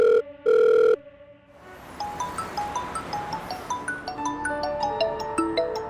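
Two loud electronic phone beeps, followed by a melodic ringtone playing a repeating pattern of chiming notes.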